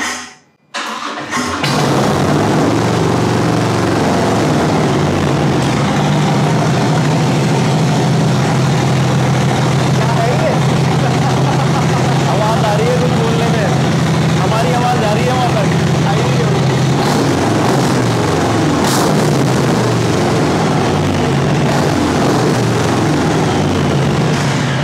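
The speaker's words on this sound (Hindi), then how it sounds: "इसमें Vance 9 का फुल सिस्टम एग्जॉस्ट लगा हुआ है, शॉर्ट शॉर्ट्स।" A loud cruiser motorcycle fitted with a Vance full-system short exhaust fires up and runs continuously with a deep, throaty exhaust rumble, revving now and then, close by.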